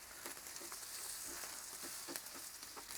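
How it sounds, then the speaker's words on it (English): Bacon sizzling in a pan on a gas stove with all four burners on low, a steady crackling fry with small pops scattered through it, quiet and close, with no voices. "They're cooking up, we're sizzling, really good."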